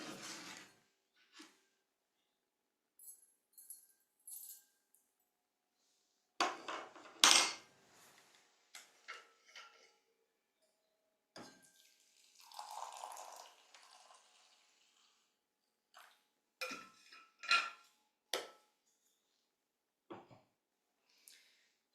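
Jasmine tea being prepared with a pot and cups: scattered soft clinks and taps of ceramic, a brief pour of liquid, and quiet gaps between, all faint with no talk.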